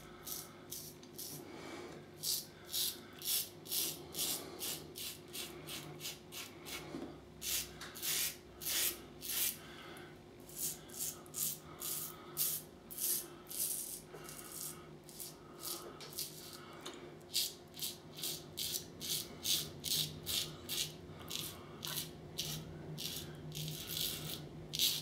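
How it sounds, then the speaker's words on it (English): Electric razor shaving on setting three across the grain, a loud buzzing trimmer with rapid rhythmic rasping strokes that pulse steadily close to the listener throughout, with no talking. "Remember this razor being that loud."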